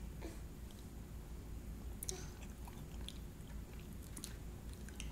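Someone slowly eats chocolate bean pudding, with soft, close, faint chewing and occasional small clicks of a spoon against a quiet background.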